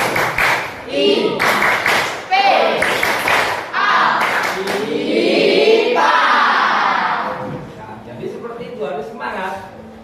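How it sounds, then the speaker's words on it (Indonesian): A school class clapping hands together in a lively burst of claps and rhythmic patterns, with children's voices shouting and chanting along between and over the clapping. "Tepuk tangan."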